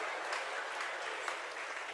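Audience applause during a Jain religious discourse by Acharya Vidyasagar at Antariksh Parshvanath, Shirpur: dense, steady clapping from many hands that runs the whole time without a break, with no voices on top.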